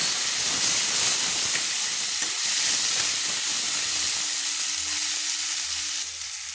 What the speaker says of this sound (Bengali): দিয়ে ভালো করে নেড়ে নিচ্ছি।